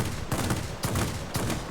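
Three 30mm cannons on a Ta 183 jet in World of Warplanes fire in three heavy, booming bursts about half a second apart, loud and close with no talk.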